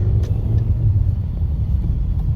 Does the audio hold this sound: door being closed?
no